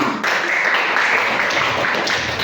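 Students in a classroom clap together in a brief, dense burst of hand claps, fairly loud and close, with no talking over it.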